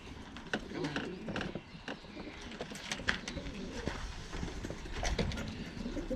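Racing pigeons being handled and marked for a national race, with soft fluttering wing flaps and faint cooing amid scattered taps and shuffling, quiet and close, with people talking nearby.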